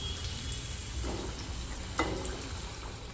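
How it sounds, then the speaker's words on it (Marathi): Samosas deep-frying in hot oil, flipped to cook both sides until crispy: a steady, even sizzle and bubbling that holds at moderate level throughout, with a faint rise near the end. "आपण याला दोन्ही साईडने तळून घेणार आहोत."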